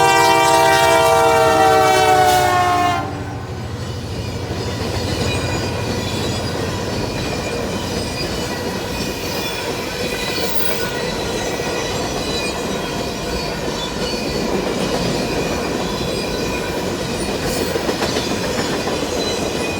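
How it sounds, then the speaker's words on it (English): CP Holiday Train slowing as it nears the yard in downtown Winnipeg, a loud horn blast at the start giving way to rolling wheels, clatter and squeal as the cars pass close by. "At this point the train had slowed down, coming ever so closer to the yard in downtown Winnipeg."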